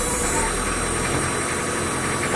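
A 1981 Peugeot 604 turbo diesel engine idles steadily, a loud, close, continuous clattering rumble with no change in speed.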